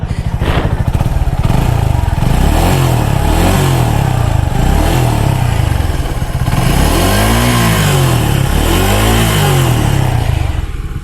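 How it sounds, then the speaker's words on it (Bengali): A Suzuki Gixxer 250 motorcycle engine idles loudly up close, then is blipped through several rising and falling revs, with a short dip midway before two more swells. "এই হচ্ছে বাইকের ইঞ্জিনের সাউন্ড।"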